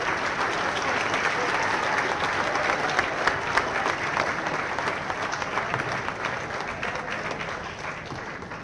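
An audience at a bowling Hall of Fame induction ceremony gives a sustained round of applause, dense, even clapping that fills the room and slowly tapers near the end.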